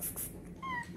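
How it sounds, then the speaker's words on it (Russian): A pet cat meows once, clear and close, with a rising and falling tonal call in a quiet room. "Чего ты мяу говоришь?"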